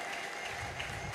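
Church congregation in Addis Ababa clapping steadily together, a dense continuous wash of many hands at moderate distance, with no voices rising above it.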